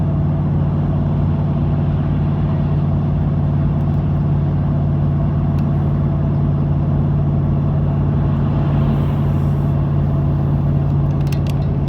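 Steady, loud road drone of a car cruising a West Texas highway, a constant low engine and tire hum with no break and no talking.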